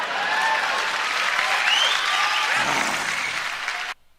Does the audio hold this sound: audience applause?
yes